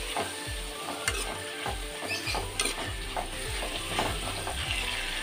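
Whole fennel seeds sauté in a hot pan, a steady close sizzle broken by regular scrapes of a spoon stirring roughly every half second, with no voices.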